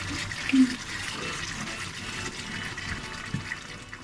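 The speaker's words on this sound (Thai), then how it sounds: "we will add some more coconut milk" Coconut milk poured into a Thai green curry with chicken: a steady, fairly soft liquid splash and trickle runs throughout, with a slightly louder bump near the start and no talking.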